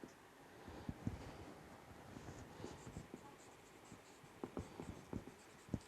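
Pen scratches on paper as C code is written by hand, a faint series of short, irregular strokes and taps over quiet background hiss, with no talk.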